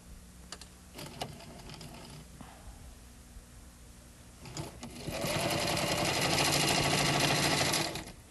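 Sewing machine stitching cloth, starting with a few scattered clicks and handling noises before the motor kicks in with a loud, steady, fast-running whir that holds for about three seconds and then stops.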